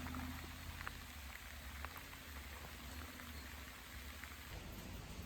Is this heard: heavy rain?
yes